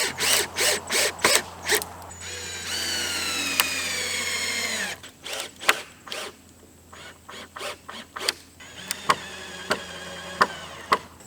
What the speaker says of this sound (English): So now I'm going to go over to the opposite end and screw that joist in.